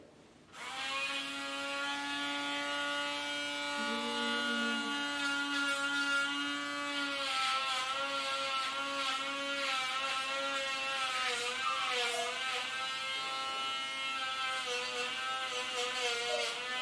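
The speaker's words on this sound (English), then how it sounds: "Okay, so now we're gonna come to Dremeling." A Dremel rotary tool grinds a dog's nails: a steady high-pitched motor whine starts abruptly and holds for over fifteen seconds, its pitch wavering slightly as the bit presses against the nails, close and loud.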